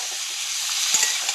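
Vegetables tossed into fish oil with nigella seeds fry and get stirred, a steady bright hiss and sizzle with a few soft scrapes of the spoon, close up and with no voices.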